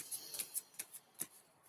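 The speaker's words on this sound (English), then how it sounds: "Shuffling these babies, picking up on energy." Tarot cards shuffled by hand in a quiet room, a string of crisp, light riffling snaps and ticks at an uneven rhythm, close and soft.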